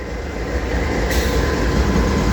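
A CP AC44CW diesel locomotive starts up on its own, and its engine builds a loud, continuous rumble and roar that swells and stays steady nearby, with no voices over it.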